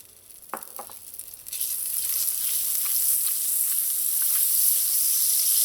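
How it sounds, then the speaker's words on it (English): Onions sizzle and fry in about a tablespoon of hot oil in a pot over medium-low heat for a Trinidad breadfruit oil down, starting with a few crackles and then a steady, close, continuous hiss with no voices. "Let the onions soften a little."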